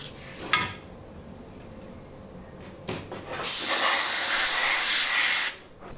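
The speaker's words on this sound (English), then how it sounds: "I'm ready to sand it with some 800 grit wet sandpaper" Wet sanding of wheel primer with 800 grit wet sandpaper: a couple of short scuffs, then a steady two-second burst of broad hissing friction close by before it stops abruptly.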